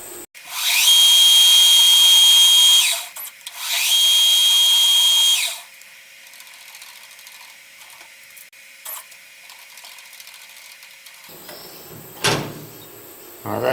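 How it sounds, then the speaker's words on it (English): Two sustained bursts of high-pitched machine whine from a tapping drill spinning in a milling machine, drilling a steam chest cover for a model mill engine, each a few seconds long, followed by quieter shop noise and clicks. "I'll swap out for a tapping drill"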